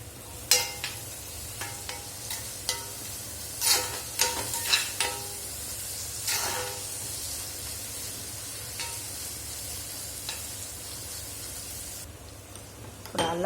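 Curry leaves, coriander and mint frying in a pan for chicken fry, a soft continuous sizzle broken by sharp crackles and pops as the leaves hit the oil and are stirred.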